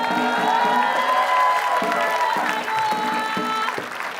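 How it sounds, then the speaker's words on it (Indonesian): Studio audience at an Indonesian TV game show claps and cheers steadily, with a voice speaking over the applause throughout. "Ayo semua tepuk tangan dong."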